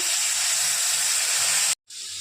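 Bitter gourd stir-fry with crushed peanuts hisses loudly as water is splashed into the hot pan, a steady close sizzle that cuts off briefly before resuming.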